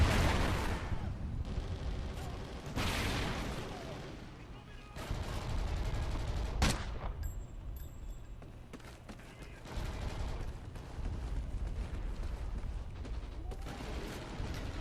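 Suppressed fire from a VKS sniper rifle with a built-in silencer and ACOG scope in Call of Duty Ghosts multiplayer, with several muffled shots and mechanical clicks set among dense battlefield noise and other gunfire.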